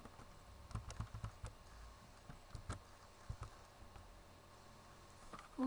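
Someone types on a computer keyboard while logging in through a Squid proxy setup, a patter of soft, close key clicks in short uneven bursts with quiet pauses between.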